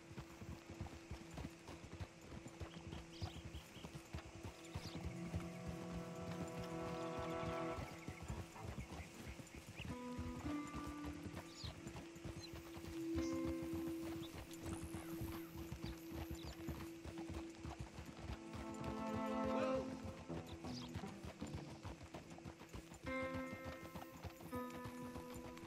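Steady horse hooves clip-clop at a walking pace over background music in a video game, with an occasional whinny.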